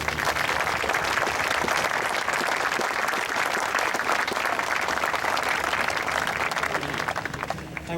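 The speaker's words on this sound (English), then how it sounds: "So give him a big applause," Sustained, dense applause rises from the crowd at a Memorial Day ceremony at the Mt. Soledad Veterans Memorial, with loud, even clapping lasting throughout and no talk over it.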